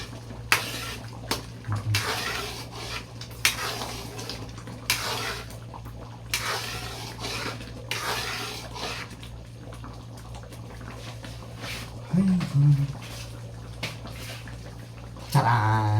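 Cooking pans are scrubbed under running water, with steady splashing and intermittent gushes, close by, plus a few brief clanks of metal near the end.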